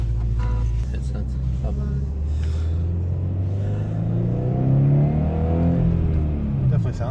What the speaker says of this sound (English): Definitely sounds a little better, huh? Yeah, it does. And it climbs RPM a little bit better.